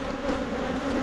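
Light-colored honey bees buzz during a fall hive inspection, a brief, close, steady drone of many wings with no voices.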